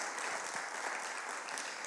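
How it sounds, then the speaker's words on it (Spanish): A church congregation breaks into steady, dense applause, heard from a distance and fairly faint, continuing evenly throughout. "Démosle un fuerte aplauso al Señor"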